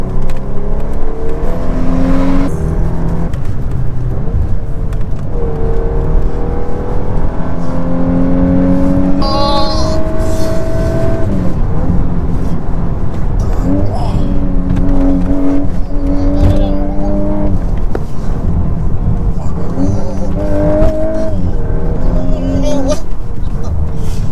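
A VW Golf 8R Performance engine revs loud and constant, drifting with rising and falling whine, while people talk over it throughout.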